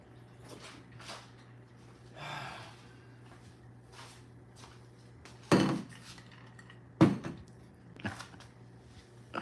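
Someone fetches a drink of water in a kitchen: sharp clinks and clatters of glassware and dishes come in scattered knocks, with a brief rush like a tap running early on, all over a steady low electrical hum and no talking.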